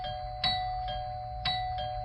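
A doorbell rings repeatedly at home, with sharp ding-dong chimes struck about four times in two seconds over a steady tonal hum, fairly close and loud, with no voices.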